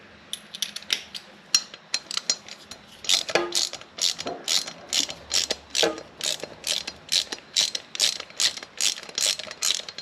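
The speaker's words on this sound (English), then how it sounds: "Got to remove this bolt here, and just got to get my wrench." A ratchet wrench loosens a bolt on the engine of a 2000 Buell Cyclone M2 motorcycle, giving a close series of sharp, rhythmic clicking bursts with short pauses between strokes and no talking.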